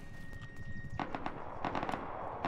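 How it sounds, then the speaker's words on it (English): Distant AK rifle gunshots in the video game Rust, a quick series of sharp cracks in bursts over steady ambient noise, with no talk. "those are AK shots"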